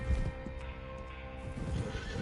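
Horses whinny and snort in a Red Dead Redemption 2 story-mode scene, with hooves shuffling and low rumbling underneath, the calls overlapping in a short burst.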